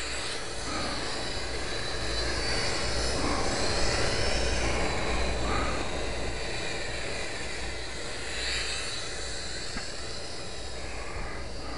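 FlyZone Playmate RC airplane flying in a closed-in area, its small electric motor buzzing steadily and fairly loud throughout, with throttle surges across the rudder and no talk.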